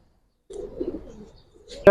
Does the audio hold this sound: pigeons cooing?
yes